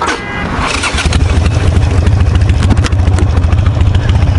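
A Yamaha MT-09 motorcycle engine cranks with the starter, then catches and settles into a loud, close, throbbing idle with a steady pulsing rhythm and no talking.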